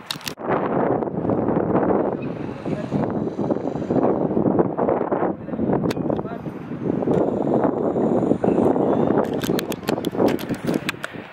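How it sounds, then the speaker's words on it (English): Strong wind buffeting the microphone at a local football ground on match day, producing continuous low rumbling gusts that swell and dip, with scattered sharp crackles and pops near the end. "Very windy today, so apologies in advance for that."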